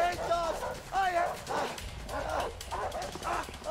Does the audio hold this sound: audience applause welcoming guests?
no